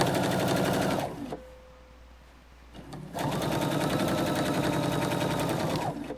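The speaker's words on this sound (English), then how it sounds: "I'm stitching along in a 1/4 inch seam." A sewing machine stitches quilt binding in a quarter-inch seam in two close, steady rapid bursts, separated by a brief quiet pause, with no talk.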